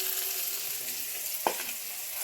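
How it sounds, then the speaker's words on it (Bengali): Macher jhol, a Bengali fish curry, cooks in a pan with a steady, close sizzle and hiss throughout, broken once by a single sharp click partway through. "এখন রান্না হচ্ছে মাছের ঝোল।"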